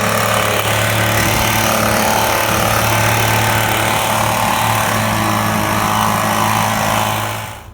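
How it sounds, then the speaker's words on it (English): Motorized blowers roar steadily while cleaning a parking lot, a loud continuous engine drone with a low hum that holds for several seconds before quickly cutting off at the end, with no voices. "before we start our blowers to clean the parking lot"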